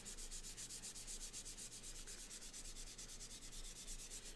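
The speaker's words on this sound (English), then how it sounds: "sand down some of these guidelines a little bit with my lovely M-Jump sanding pads" Sanding pads rub steadily back and forth over a wooden panel prepared for wood burning, softening pencil guidelines; the scratchy strokes repeat in a quick, even rhythm, close and continuous, with no talking.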